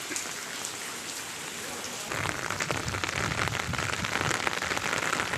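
Heavy monsoon rain pours steadily during a flood at a temple, where knee-deep water has entered the shrine; a dense, continuous hiss that swells louder partway through, with no voices.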